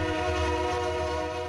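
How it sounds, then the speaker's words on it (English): A commuter train passes on a rail line that also carries freight, at a town-centre station hub. A loud, steady horn blast sounds close by over the continuous rumble of the train, with no talking. "So along with the freight trains, you'll see commuter trains too."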